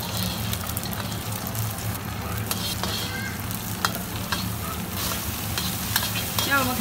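Beaten eggs sizzle and fry in an iron wok over medium-low heat, a steady crackling hiss with occasional scraping stirs and brief clinks, close and continuous without talk.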